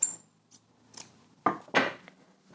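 Scissors snip through a length of sewing elastic cut to size for doll underwear, giving a few quiet separate clicks and then two louder, closer crunching cuts close together, with no talking.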